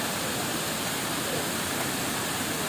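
Rushing water at Willingdon Dam in Junagadh after rain, a dense, continuous roar of falling and flowing water that fills the whole clip, loud and steady with no breaks.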